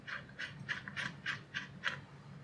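Wood screws driven into a tub frame: a close, regular ratcheting whir in short bursts, about seven evenly spaced pulses, with no talking.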